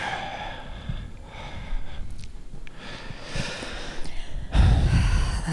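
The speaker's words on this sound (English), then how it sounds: "Nice long deep breath." Slow, audible breathing close by, a long deep breath drawn in and let out with soft snorting air noise, ending in a louder exhale, with no talking.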